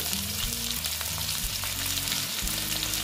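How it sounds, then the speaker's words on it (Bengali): Potatoes frying steadily in a pan of hot oil, loud continuous close-up sizzle with a low hum underneath and no talking. "আলুগুলো ভালো মতন ভেজে নিচ্ছি"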